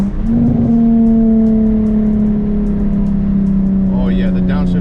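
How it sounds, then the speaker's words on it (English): A Nissan 350Z with a Flashark Racing Y-pipe single exhaust holds a loud, steady engine drone from the cabin, with a brief shift in pitch near the start. "Oh yeah, the downshift sounded good."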